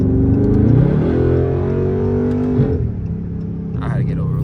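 A 650-horsepower Dodge SRT 392 Scat Pack is driven on the road, its V8 engine and exhaust giving a loud, deep rumble that swells while accelerating and then eases off, with a voice talking over it.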